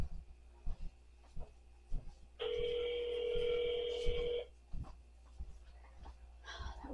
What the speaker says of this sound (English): That weird ring usually means someone's on the phone.